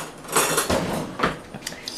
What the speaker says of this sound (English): we're going to go ahead and whisk this around till it's really fine incorporated